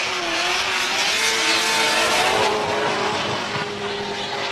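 Drift cars battling on track, a supercharged V8 and a 2JZ-powered Nissan S14, engines screaming loud and steady with rising, wavering pitch and a roar of tyres, no voices over them.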